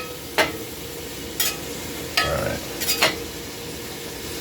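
Meat frying in a pan with jalapeno juice, a steady sizzle broken by several sharp scrapes and clinks of stirring, close up, with a brief spoken word.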